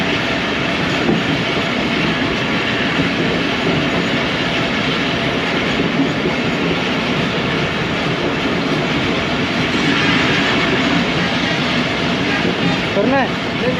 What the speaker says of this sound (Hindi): तो दोस्तों ये कला सत्तार शाह से अब हमारी ट्रेन आगे की तरफ रवाना हो चुकी है।